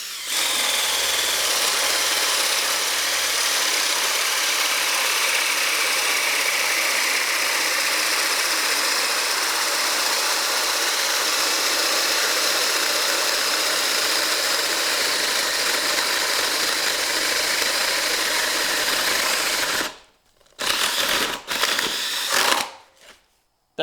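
A DeWalt cordless drill bores through wood with a 1.5-inch spade bit, a loud, steady whirring grind that holds for about twenty seconds, then stops and gives a few short bursts before falling silent.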